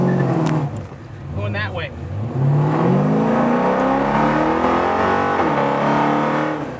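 A project car doing a burnout, its engine revving loudly and climbing in pitch with a sustained rough roar, while people talk briefly early on.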